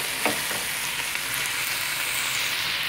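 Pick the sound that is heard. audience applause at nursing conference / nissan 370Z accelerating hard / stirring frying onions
stirring frying onions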